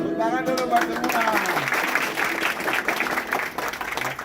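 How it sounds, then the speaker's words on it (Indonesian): Applause from a church charity gathering audience, broad and steady throughout, with a voice and singing tones rising over the clapping at the start. "Tepuk tangan dulu buat semua."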